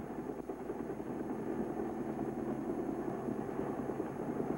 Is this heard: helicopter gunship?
yes